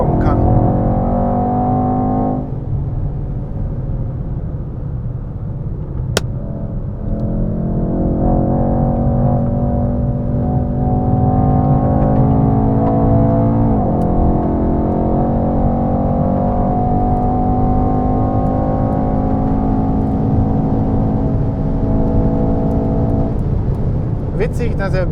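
2017 Mercedes-AMG E63 S 4MATIC+ accelerating hard out of corners at Portimao racetrack, a loud engine roar climbing through the gears with brief shift dips, heard from inside the cabin as a person talks over it.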